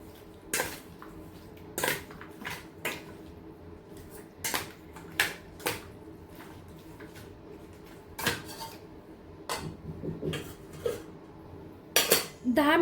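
Mutton being mixed with salt and turmeric in a cooking pot, heard as irregular metallic clinks and scrapes of a spoon against the pot, moderately close, with quiet gaps between the strikes and no talking.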